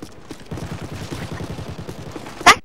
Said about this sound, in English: It's a weird gun, it's like a machine pistol, and it's like you fold it up